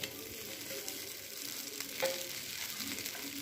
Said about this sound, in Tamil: இப்போ பாருங்கள், தோசை ஊற்றிருக்கேன் இல்லையா?